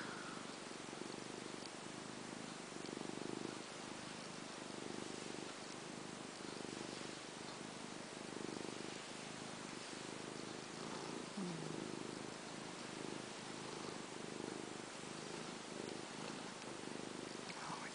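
A cat purrs steadily and close up, a soft rhythmic rumble that pulses with each breath and continues alone for the whole stretch.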